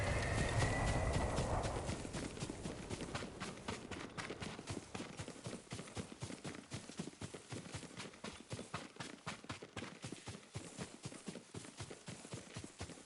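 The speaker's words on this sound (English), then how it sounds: "Yuriko's horse." Horse hooves clip-clop at a steady trotting rhythm in Ghost of Tsushima, loud and close, with a brief louder rush at the start before the even hoofbeats carry on alone.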